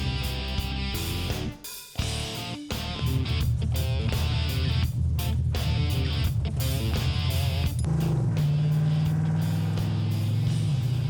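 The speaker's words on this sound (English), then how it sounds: "Wow, yeah, this is a nice, smooth ride, man." A Mopar car drives on the road, heard from inside as a steady, loud engine drone and road rumble, with a short dip in level near the start before the sound holds constant.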